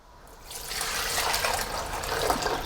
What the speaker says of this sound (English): put our about 4 cups of water. We're gonna pour that right in there.